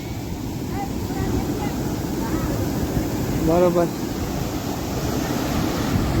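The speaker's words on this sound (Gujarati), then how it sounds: "જોરદાર મોજા આવે છે" Strong sea waves breaking at the shore, a steady loud surf roar throughout with a swell in the middle, while someone speaks briefly over it.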